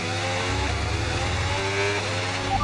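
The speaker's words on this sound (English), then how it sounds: "Wow, this car is loud." Formula 1 car in the F1 26 game: a loud, steady engine drone with a high whine, close up and with no voices, rising slightly toward the end.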